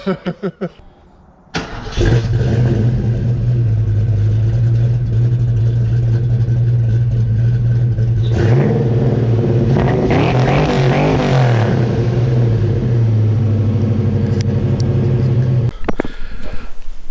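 Engine of a Carolina Blue convertible starting with a few cranking bursts, then a loud steady idle with a rising and falling rev in the middle before cutting off near the end.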